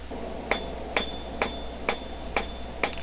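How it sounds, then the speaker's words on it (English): A rounding hammer strikes hot steel while a blacksmith forges a decorative scroll, giving six evenly spaced, ringing metallic blows close by over a low steady hum, with no talking. "I find the rounding hammer works best for spreading the metal along one edge"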